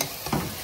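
Water hits a pan of frying local chicken and bursts into a loud, close hiss of sizzling that settles into a steady crackle.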